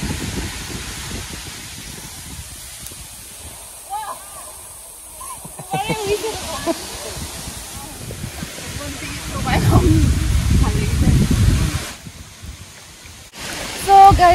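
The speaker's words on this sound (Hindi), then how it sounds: "ये वाटरफॉल का आवाज़ ज़्यादा आ रहा होगा" Phe Phe waterfall in Meghalaya gives a constant hissing rush of falling water, surging louder in places, while someone talks nearby over it.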